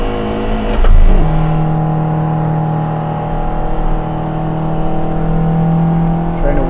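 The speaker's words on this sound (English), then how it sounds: "Heel toe action on the downshifts." Spec Miata race car engine on track at Harris Hill, heard from inside as it drones loudly and steadily, with pitch dips and blips from heel-toe downshifts.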